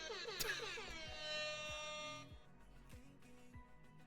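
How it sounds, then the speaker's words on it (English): An MLG air horn blasts loud and blaring, its stacked pitched tones ringing for about two seconds, then fading as thumping bass hits continue beneath. "they sent like a fucking MLG air horn"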